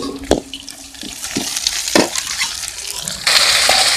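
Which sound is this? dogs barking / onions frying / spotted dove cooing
onions frying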